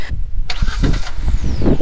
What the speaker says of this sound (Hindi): तो मैं अभी गाड़ी को स्टार्ट करूँगा मोबाइल से